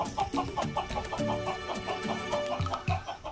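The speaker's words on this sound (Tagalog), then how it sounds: "Kaya mga manok, ingat-ingat lang dyan ha." Farmyard chickens cluck in a steady, repeating pattern of short bursts, close and fairly loud, with no talk over them.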